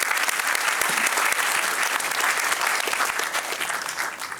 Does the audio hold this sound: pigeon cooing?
no